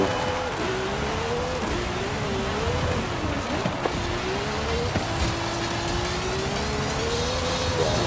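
Lamborghini engine droning and revving in waves, its pitch rising and falling steadily over several seconds, close and loud with a rough rushing background and no clear talk.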